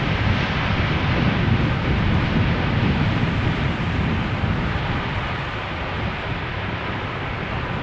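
A Boeing 747 landing at Schiphol with light reverse thrust, heard as a broad, steady, fairly loud roar that eases slightly toward the end.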